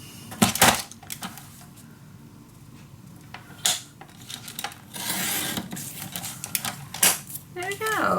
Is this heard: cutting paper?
yes